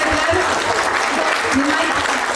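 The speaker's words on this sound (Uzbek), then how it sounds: "Chiroyli qarsaklar." Dense, continuous clapping from guests at an Uzbek circumcision feast, a close, steady wash of hands with a voice faintly mixed in.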